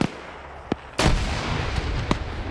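Tank cannon firing in a war video game, a faint distant thump followed by a loud, close blast with a rumbling tail and a few smaller bangs after.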